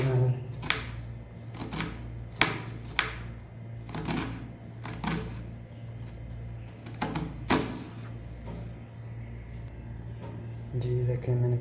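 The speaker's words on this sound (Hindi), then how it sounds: "मैंने प्याज काट लिया। प्याज को भी आपने इसी तरह का बारीक बारीक काटना है।" A knife finely chops onion on a board for a potato and egg curry, making irregular sharp taps and bursts of chopping with a voice speaking underneath.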